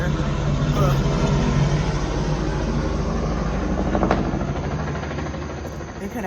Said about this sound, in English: you hear the helicopter?